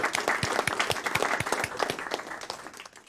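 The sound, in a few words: clapping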